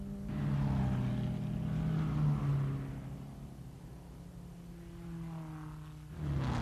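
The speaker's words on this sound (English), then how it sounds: "The Lancia Ferraris round the carousel." 1957 Lancia-Ferrari Formula 1 racing cars rounding the Nürburgring carousel, a droning engine note that swells and fades as a car passes, then rises again at the end, heard from a distance.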